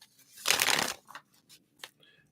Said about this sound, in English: Let's shuffle these up.